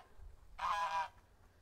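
A single goose honks on a small farm with ducks and chickens, one loud nasal call lasting about half a second, fairly close, over faint low background rumble.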